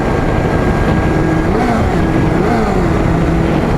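A Kawasaki Z400J motorcycle on a short test ride, with a steady, loud engine drone that wavers slightly in pitch, mixed with constant wind and road rumble.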